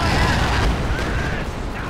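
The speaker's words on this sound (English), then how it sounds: "No, there's a strafe!" A strafing run attack in the video game Company of Heroes, a dense burst of rapid gunfire and rumbling explosions, loud and continuous for a couple of seconds.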